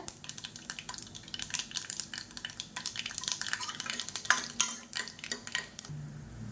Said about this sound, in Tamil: ஒரு மூணு வரமிளகா சேர்த்துக்கலாம் இது எல்லாமே நல்லா பொரியட்டும்